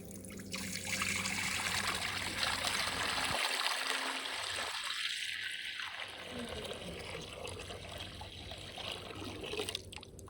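Water poured from a container into a concrete distribution box of a DIY septic system on an off-grid homestead, a steady outdoor trickling and splashing that lasts several seconds and changes tone as the box fills.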